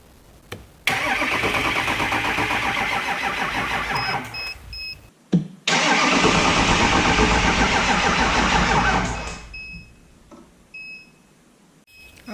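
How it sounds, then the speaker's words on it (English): A diesel engine cranked by a small jump pack, with fast steady cranking for about four seconds, a pause, then a longer burst of cranking, loud and close, with faint beeps in between. "I cranked kind of fast for a few seconds and then quit"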